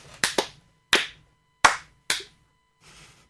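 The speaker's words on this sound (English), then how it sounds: "bitter claps" A small comedy quiz show crowd gives a thin scattering of claps: about five separate sharp slaps spaced irregularly, then a faint patter fading out.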